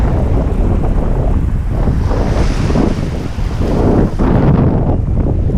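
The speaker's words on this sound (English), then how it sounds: "it's a windy day today" Strong wind buffets the microphone over rough, churning sea waves in Key West, a loud continuous roar close up that swells and dips.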